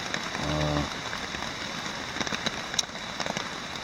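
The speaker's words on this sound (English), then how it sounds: "as I'm sure you can hear, the forecast is true, and it is raining." Steady rain patters softly on surfaces outdoors at Cranberry Lake in the early morning, a continuous hiss with scattered drips, beginning with a brief low hum.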